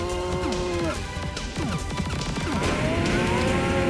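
A cow moos in the 1993 Sega CD shooter Keio Flying Squadron, its bending, lowing game tone sounding over a busy, continuous bed of synthesized game music and effects.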